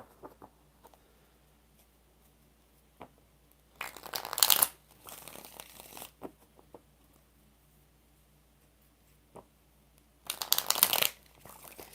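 Tarot cards are riffled in two separate bursts, with a smaller rustle between them, against a quiet background.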